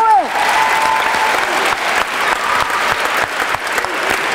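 Audience at a poetry slam bursts into sustained, dense applause for a poet, loud and steady across the whole stretch with a brief tone at the very start.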